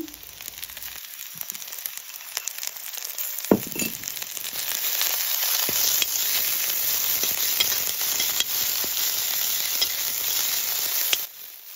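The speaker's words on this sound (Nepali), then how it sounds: "त्यसैगरी लसुन र अदुवाको पेस्टलाई पनि फ्राई गरिदिनु होला।" Onion, garlic and ginger-garlic paste fry in a pan for a Nepali mushroom curry, giving a loud, steady sizzle close by, broken by brief stirring scrapes.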